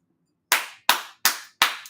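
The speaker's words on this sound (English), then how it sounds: "a hand clap" Four sharp hand claps in a steady rhythm, each crisp and close with a quick decay, following a brief silence.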